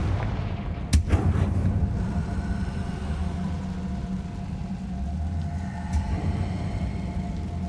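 A Confringo fire spell explodes in Hogwarts Legacy with a sharp, loud blast followed by a lingering low rumble and a second, smaller crack a few seconds later, all over a constant droning background.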